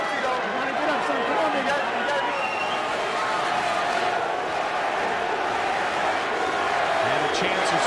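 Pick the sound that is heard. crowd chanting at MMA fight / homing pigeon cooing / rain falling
crowd chanting at MMA fight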